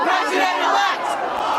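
A dense street crowd of anti-Trump protesters on Fifth Avenue in New York, continuous loud massed shouting and chanting close by.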